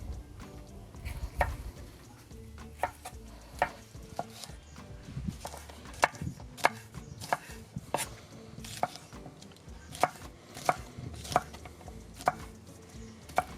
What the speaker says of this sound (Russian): Сладкий перец можно нарезать как полосочками